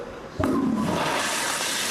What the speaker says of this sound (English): Then there's a toilet flush